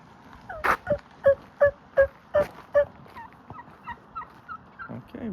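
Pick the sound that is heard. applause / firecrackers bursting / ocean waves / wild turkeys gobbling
wild turkeys gobbling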